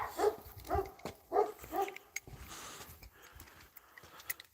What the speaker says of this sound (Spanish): Dios, cómo están los perros, rabiosos.